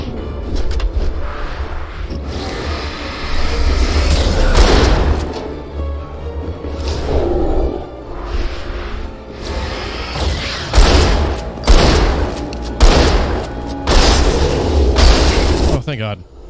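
Heavy shotgun blasts and deep booms in the horror game Alan Wake 2 hit loud and close, several sharp reports spaced irregularly across the clip over a low rumbling ambience, with someone talking between them.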